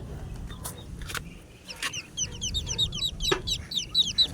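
A mother hen gives low clucks while her newly hatched chicks chirp in quick, high, rapid peeps, close by in a coop.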